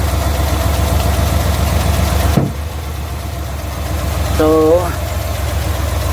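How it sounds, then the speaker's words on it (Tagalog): A Multicab engine idles roughly with a misfire, a close steady rumble that drops off partway and then resumes, with a brief voice heard over it. "palyado yung ating makina at saka yung tunog nya hindi maganda"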